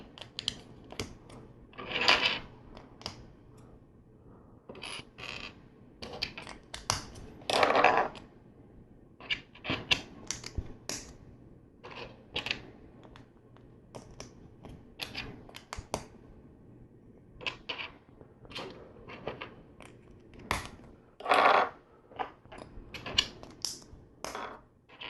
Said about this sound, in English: Do you guys hear that little clicking as I snap the bricks together?